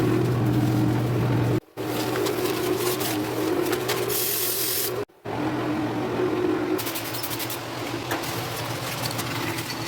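Brisk scrubbing during a speed clean gives a continuous rough, gritty rasp over a steady hum, broken by two brief silent cuts, with sharper bursts near the end.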